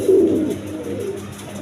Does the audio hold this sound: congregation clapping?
no